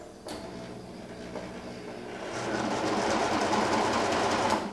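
A Brother 1034DX serger sewing machine runs close by, starting as a quieter, steady whirring hum and then speeding up into a louder, faster mechanical chatter that continues until it stops abruptly, with no talking.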